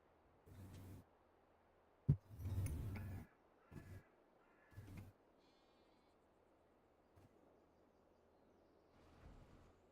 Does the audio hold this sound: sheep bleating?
yes